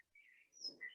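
Birds chirp in a garden, faint and distant: a few thin high tweets and whistles, with a soft low murmur underneath.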